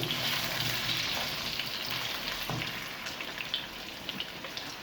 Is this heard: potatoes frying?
yes